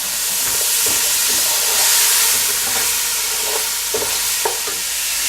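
Lamb chops and other meat browning in a pot while being stirred, a steady loud sizzle and hiss with scraping stirs, no voices.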